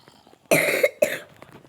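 Two sharp, close coughs in quick succession, the second shorter than the first, with quiet background before and after.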